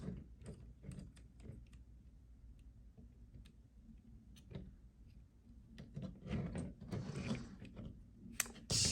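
Small plastic ratcheting clicks and snaps from a Transformers Studio Series 86 Starscream figure as parts are notched down and laser accessories clipped in, quiet and close, in scattered bursts with handling noise between.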